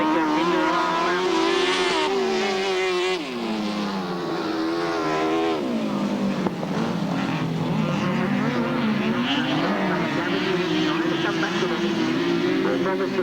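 Grasstrack racing motorcycles at the 1997 Lincolnshire Poacher meeting snarl round the pit bend, their engine notes rising and falling continuously, while a commentator talks over the racing.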